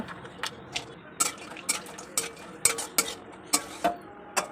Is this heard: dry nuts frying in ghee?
yes